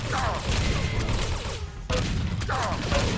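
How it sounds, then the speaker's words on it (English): Heavy shotgun fire in a Quake Live team deathmatch booms in a few loud, close blasts amid chaotic game noise, with frantic action sounds between the shots. "Wow, nice shotgun work by Cass. Heavy shotguns."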